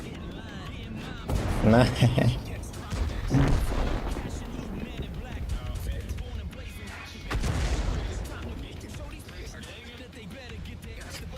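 Booming artillery shots and explosions in a tank battle game, a few loud thumps standing out early and again later over ongoing rumble, while someone talks throughout.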